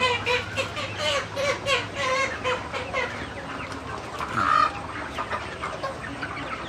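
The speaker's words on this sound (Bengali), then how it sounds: "আমরা দেখতেছি মুরগির খামারটা অনেক বড় খামার। তো অনেক মুরগি আছে এখানে।" Many chickens on a large poultry farm cluck and squawk together in a busy, continuous chorus, close by, with a few sharper calls rising above the flock.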